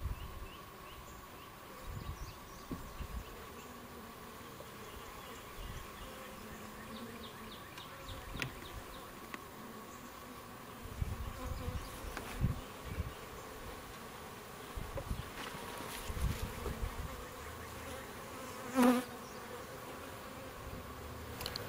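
Honey bees droning steadily around an open hive during an inspection, a continuous low insect hum with occasional louder passes close by, set against faint outdoor rustling.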